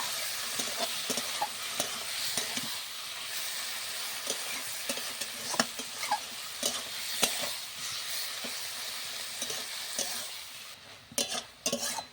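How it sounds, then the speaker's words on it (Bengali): Salt-and-turmeric marinated prawns frying in mustard oil in a pan, a steady sizzle with repeated stirring clinks and scrapes throughout. "লবণ হলুদ মাখিয়ে রাখা চিংড়ি মাছটা দিয়ে দেবো"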